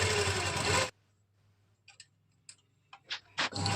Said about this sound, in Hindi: अब हम इसमें फिटिंग की सिलाई लगा देंगे।